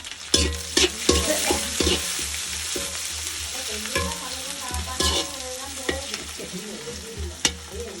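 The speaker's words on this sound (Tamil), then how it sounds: "வெங்காயத்தை கொஞ்சம் போட்டாச்சு பச்சை மிளகா போட்டாச்சு" Onions and green chillies fry in a pan with a constant close sizzle, punctuated by sharp clanks and scrapes of a spoon stirring against the metal.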